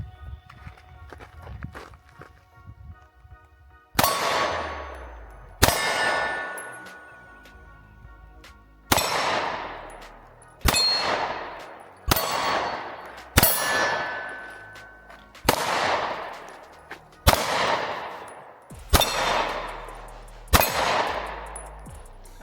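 Smith & Wesson Shield pistol firing at a steel target outdoors, ten sharp shots spaced a second or two apart, each with a ringing metallic clang that decays quickly, loud and close with no speech.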